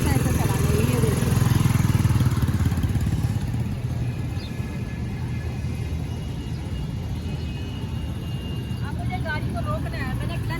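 A motorcycle engine runs steadily under light throttle as the clutch is eased out, a close, continuous low rumble with a slight early swell.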